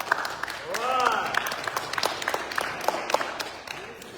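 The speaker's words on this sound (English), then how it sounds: "Round of applause" Audience applause at a film screening Q&A, scattered clapping from a small crowd with a few distinct individual claps, mixed with voices and cheering.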